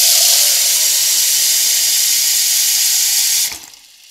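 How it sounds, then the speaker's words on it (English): Tap water rushes steadily into a measuring cup as about half a liter is filled, a loud continuous hiss that cuts off abruptly near the end. "So I will take my water measuring device and let's just say 1/2 liter into this measuring cup."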